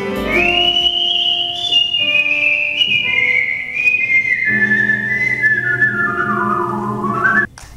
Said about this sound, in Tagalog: nagtipon-tipon naman sa isang convention sa Tokyo ang mga pinakamagagaling na whistlers